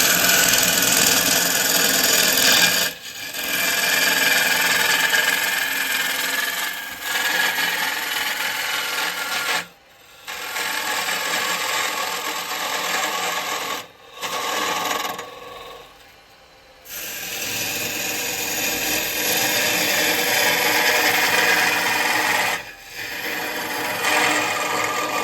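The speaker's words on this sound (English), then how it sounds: "I'm going to come in with a square chisel and I'm going to bring this end down a bit." A 14mm square chisel cuts into a spinning log on a wood lathe, giving a loud, close, rasping scrape that runs in long bursts with several short breaks as the tool is lifted.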